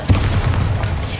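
A Bombarda spell explosion in the Hogwarts Legacy video game, a loud, deep boom with heavy low rumble that hits near the start and rolls on steadily for about a second; no talking.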